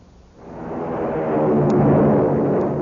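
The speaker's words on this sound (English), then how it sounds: "It's the sound of a mighty American Airlines flagship taking off." An American Airlines flagship airliner taking off, presented as an old radio sound effect: a broad roar swells in after a quiet moment, then holds loud and rushing to the end.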